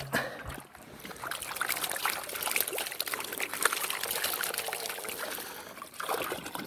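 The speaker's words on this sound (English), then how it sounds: "Alright, I'm going to pan this out into this tub." Water sloshes and trickles steadily as sluice concentrates are panned out into a tub outdoors at Nugget Lake, Wisconsin, a continuous close-up splashing with brief swirling surges.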